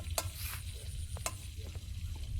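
Fish frying in a pan of hot oil, a steady close crackle with sharp spits and pops over a low background hum, no voices.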